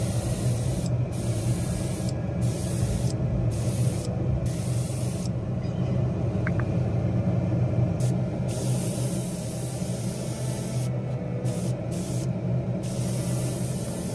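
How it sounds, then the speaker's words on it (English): An airbrush sprays paint onto a 1/24 scale BMW M4 G82 wide body model car, a steady close hiss that runs in long passes broken by brief pauses. "Airbrush tool, link also in the description."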